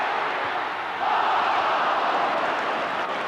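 A football stadium crowd at Brighton versus Manchester United urges the team on, a dense distant roar that swells louder after the first second and holds steady with little speech.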